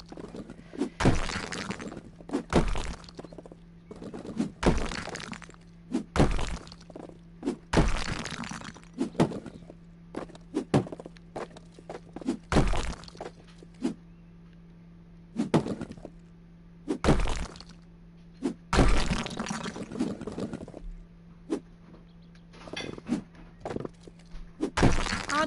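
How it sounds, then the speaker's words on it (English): A wall is smashed apart in the House Flipper video game, with loud, irregular cracking and crunching impacts spaced a few seconds apart over a steady low hum, and no one speaking. "I don't know why I'm destroying the whole of this wall"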